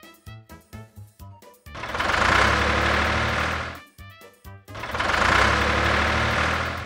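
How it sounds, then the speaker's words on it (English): Tractor engine running in two sustained loud bursts, each preceded by a series of short rhythmic chugging pulses, with a brief pause between the two roars. "Tractor."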